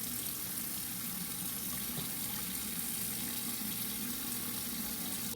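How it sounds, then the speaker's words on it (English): Water poured into a hot pan holding ham on a stovetop, a steady hiss and running-water rush filling the whole stretch at an even, fairly loud level with no voices. "I'll just add maybe like a little quarter cup of water."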